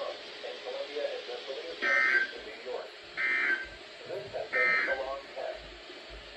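Three short, harsh buzzer tones sound at regular intervals over a faint, continuous spoken voice, a weather radio weekly test alert broadcast on stations WXL34 and WWF48.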